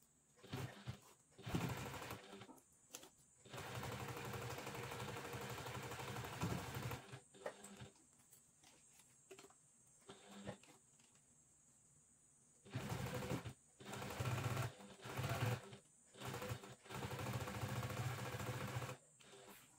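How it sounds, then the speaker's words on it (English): Sewing machine stitching two reinforcing rows along bias tape on a mesh pocket, running in bursts of steady whirring hum separated by quiet pauses, close and alone. "I like to sew to rows of stitches to reinforce the stitches"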